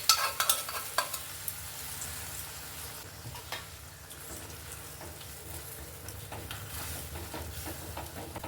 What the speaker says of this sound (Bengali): অল্প অল্প দেবো আর অল্প অল্প একটু নাড়িয়ে নেবো